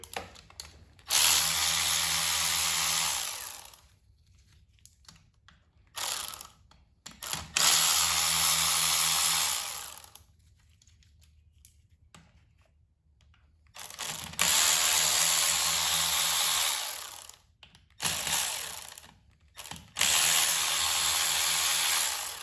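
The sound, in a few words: removing T30 Torx bolts from car engine rear main seal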